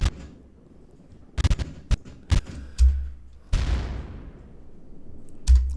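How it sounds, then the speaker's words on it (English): Several sharp, loud bangs and booms in quick succession, followed by a longer rumbling blast that fades out, then one more heavy thud. "we need to put in a few different explosions"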